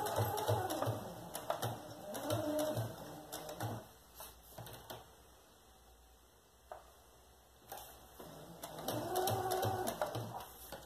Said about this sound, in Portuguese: passar uma costurinha em cima com pé de máquina, frente com frente do tecido